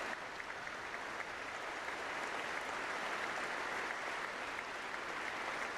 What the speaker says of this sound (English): Wow, that's a lot of clapping.